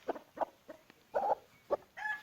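A turkey gives a series of short, separate clucks at an uneven pace, close by, with quiet pauses between them and no talking.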